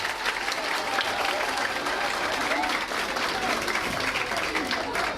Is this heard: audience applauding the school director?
yes